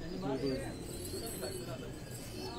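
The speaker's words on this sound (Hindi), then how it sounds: "ये मेरी बल्कि बहुत ही शानदार कबूतरी है" Rooftop pigeon, a domestic hen bird, giving soft low cooing calls close by, faint under a background hiss and someone talking.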